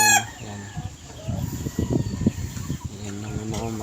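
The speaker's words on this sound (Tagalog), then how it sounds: "Yan yung ano ko, mga ibon ko." Pet birds kept in a bamboo loft, heard as a rooster-like crow near the start, then a cluster of clucking and fowl calls from close by, with the crowing returning at the end.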